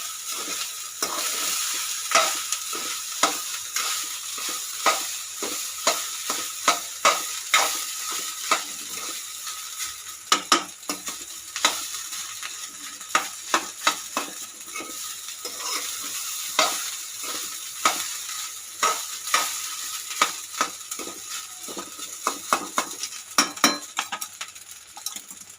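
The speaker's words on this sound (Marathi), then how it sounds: "अंड्या आणि ते सगळं नीट मिक्स करून घ्यायचं आहे आपण आता." Rice and eggs being stir-fried together in a pan: a steady sizzle with frequent sharp spatula scrapes and metallic clinks against the pan, close and busy throughout, with no talking.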